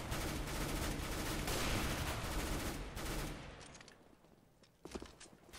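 Dense automatic gunfire from the CS:GO video game rattles continuously for a few seconds, then thins to a few scattered shots, loud and close.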